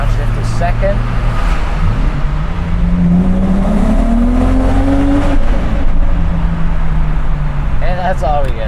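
A BMW E34 M5 is driven in heavy city traffic; the engine climbs in a rising rev after a downshift to second gear, then settles back, with a steady low exhaust drone under intermittent talk inside the cabin.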